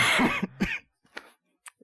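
A harsh, forced cough up close, followed by a few fainter throat sounds and short breathy bursts trailing off into quiet.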